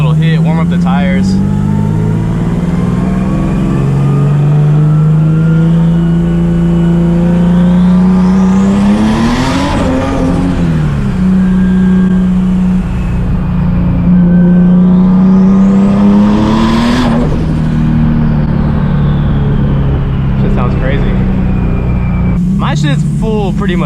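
A 900 hp Nissan 370Z Nismo with a big turbo roars loudly through two hard revving pulls that climb steeply and fall away, over a steady low drone, with someone talking throughout.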